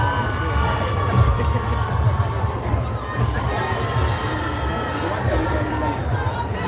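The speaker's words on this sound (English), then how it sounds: "Ladies and gentlemen, let's give a round of applause to all of our finalists." A pageant grand finale crowd cheers and shouts for the finalists, a loud continuous roar of voices, whoops and babble filling the hall with steady intensity throughout.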